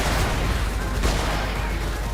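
Dense video game gunfire from Freedom Wars Remastered in a ranked PvP match, a loud continuous burst of shots filling the whole stretch, with a brief sharper spike of impact near the middle.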